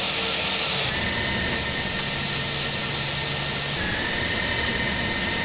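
An airliner in Flight Simulator X spooling up for its takeoff run, with a loud, steady jet roar and a high turbine whine that shifts slightly in pitch, continuous and alone.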